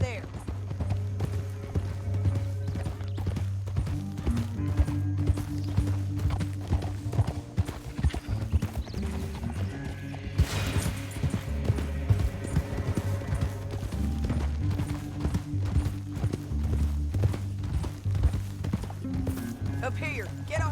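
Horses gallop in Red Dead Redemption 2 with a steady, rapid clip-clop of hooves that runs throughout, under a low musical score and intermittent voices.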